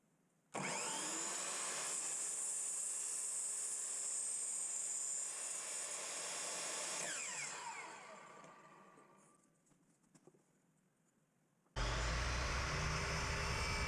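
A power saw whines loudly through framing lumber set against a stop block, holding a steady cut for several seconds before winding down, then a second cut starts abruptly near the end.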